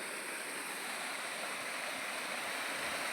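Aghanashini river water rushing over a check dam, a dense, even roar of flowing water heard up close with no pauses or voices.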